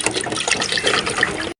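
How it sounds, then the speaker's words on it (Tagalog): Mineral water splashes and gushes steadily while rinsing out the inside of a leaking water dispenser, a close, continuous watery rush with no pauses. "babanlawan natin ng mineral water yan"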